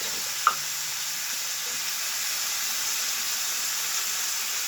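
Chicken pieces sear on their second side in a hot pan, giving a steady, even sizzle and hiss throughout, with a single faint tap near the start.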